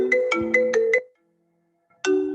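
A computer ringtone chimes during a video call: five quick bright tones in a row, a short silence, then the melody starts again. It is loud and clear, with no talking.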